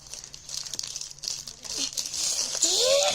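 Plastic package wrapping from a Sunday delivery crinkles and tears as it is ripped open at close range, with crackly bursts building toward the end while a voice and an adult talk over it.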